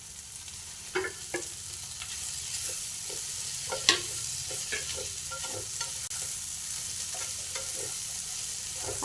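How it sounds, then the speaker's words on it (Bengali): Bread pieces and vegetables stir-fried in a pan, a steady low sizzle broken by repeated scraping and stirring clicks at close range, with no talking. "এবার আমি কেটে রাখা রুটির টুকরোগুলো দিয়ে দেবো।"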